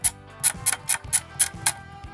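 A film camera's rewind crank on a cheap, fully mechanical budget camera turns with a run of sharp ratcheting clicks, about eight evenly spaced ticks, close and crisp.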